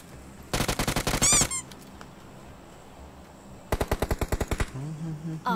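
Automatic weapon fire in a shooting video game: two sharp rapid bursts of gunshots, loud and close, separated by a quieter pause, with no speech over them.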